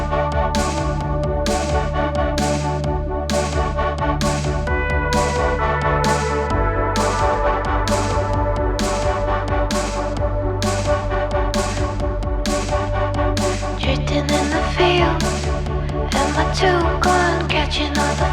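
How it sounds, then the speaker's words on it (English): Original Logic demo recording of a song, a steady rhythmic track with regular percussive hits and sustained harmonic layers, playing alone without talk. "this is the first version of the song that I ever heard"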